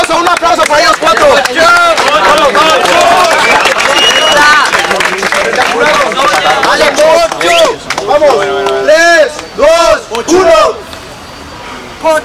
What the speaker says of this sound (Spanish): Un aplauso para ellos cuatro